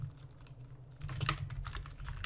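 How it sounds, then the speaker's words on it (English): Computer keyboard typing, a run of soft close keystrokes over a low steady hum, picking up in pace partway through. "or you can just type it yourself."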